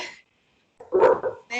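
A dog barks in a short loud burst through a remote meeting's audio, standing out clearly between stretches of silence.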